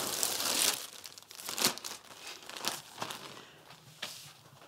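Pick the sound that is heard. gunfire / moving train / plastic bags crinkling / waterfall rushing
plastic bags crinkling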